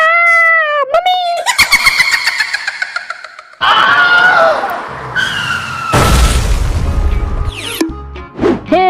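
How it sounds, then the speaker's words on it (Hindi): A cartoon car skids with loud, rising tyre squeals, then hits a tree with a heavy booming crash and a burst of clatter. Shrill voices cry out around the impact. "हमारी कार तो पूरी तरह से टूट फूट गई"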